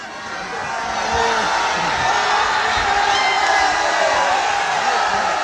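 A large outdoor crowd at a stage show in the Sundarbans roars and cheers continuously, a dense sustained wash of shouts and whoops that swells in the first second and then holds steady.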